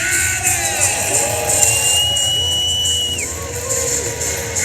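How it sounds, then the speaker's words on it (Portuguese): Protest crowd gathered before a stage of politicians, a dense, steady roar of many voices chanting and cheering at a distance, with whoops and yells rising above the broad murmur throughout. "aqui eles vão cantando as pessoas que estão no palco"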